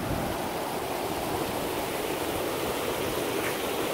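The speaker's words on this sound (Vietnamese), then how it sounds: "Một con đường đã trở thành một con suối rồi các bạn." Rainwater running as a stream across a village road during a rainstorm in a coffee-growing area makes a steady, broad rushing wash that holds an even level throughout, with no talk.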